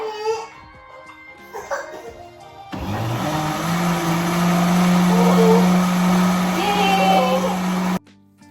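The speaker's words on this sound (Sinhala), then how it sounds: "මම මේක බ්ලෙන්ඩ් කරලා ගන්නවා" A kitchen blender kicks in and whirs loudly and steadily for about five seconds before cutting off abruptly, while an infant cries before and over the motor's drone.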